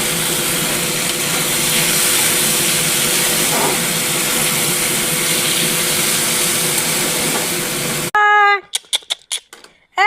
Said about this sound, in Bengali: এখন আলু ভাজি করছি